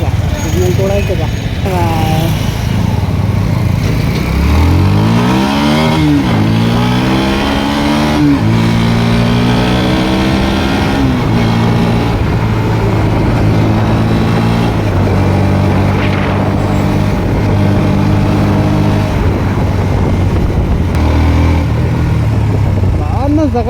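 A vehicle cruises along an open road in light morning traffic, its engine rising and falling through loud revs under near, continuous talk.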